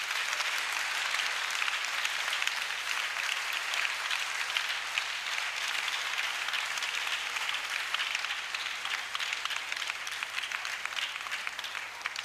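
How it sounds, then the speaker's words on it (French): A church congregation at a national convention in Togo applauds in acclamation, sustained dense clapping from a large crowd that holds steady for the whole stretch and fades slightly at the end. "Acclamation à Jésus"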